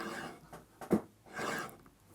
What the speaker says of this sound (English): I'm going to charge the leather with some honing paste, and then just feel for the angle and a few strokes